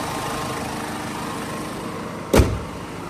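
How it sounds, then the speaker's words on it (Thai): A BMW 520d diesel engine idles in a low, even rumble, with a short clunk like a door or latch partway through. "เครื่องยนต์นิ่มเรียบนะครับ"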